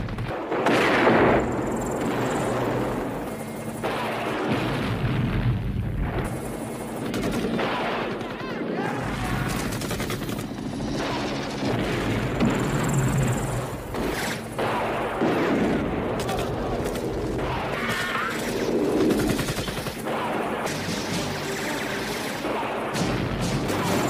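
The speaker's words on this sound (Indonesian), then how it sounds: "Tak lupa ia juga membombardir tempat tersebut menggunakan helikopter." Dense, continuous helicopter gunfire and explosions from the film Rambo: First Blood (1982) rumble and crack loudly throughout, a chaotic battle mix with voices occasionally cutting through.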